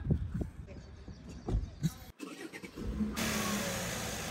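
A car engine cranks, catches and then settles into a loud steady revving roar, with people talking briefly beforehand.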